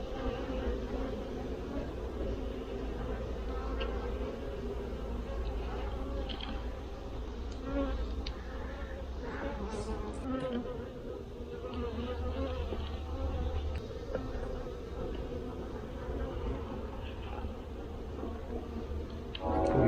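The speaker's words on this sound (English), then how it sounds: "There's a lot of bees in here." Dense, steady buzzing of many honey bees swarming around an opened hive during a honey harvest, close and continuous with no talk.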